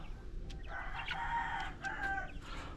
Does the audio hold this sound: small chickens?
yes